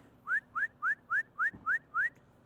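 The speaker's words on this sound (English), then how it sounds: "I like to whistle or make some type of noise just so if there is a dog in the" Seven short rising whistles repeat in an even rhythm, each a quick upward sweep, sounded by a person in a backyard to alert any dog that might be there; they are loud and clear over faint background noise, with no talk.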